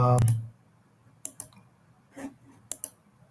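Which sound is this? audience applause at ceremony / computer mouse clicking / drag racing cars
computer mouse clicking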